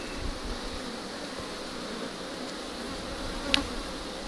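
Honey bees from a hive with higher-than-usual aggressiveness buzz steadily around the opened hive during an inspection, a dense continuous drone close by, with one brief sharper buzz of a bee passing very near.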